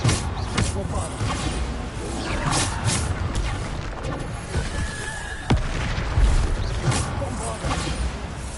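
Bombarda spell explosions burst repeatedly in Hogwarts Legacy gameplay, with booming blasts and crashing impacts among ongoing combat noise while someone repeatedly speaks.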